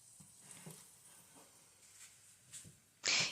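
Ground meat for burritos sizzles softly in a pan, broken by occasional quiet scrapes and taps of stirring, then a brief louder hissing burst at the very end.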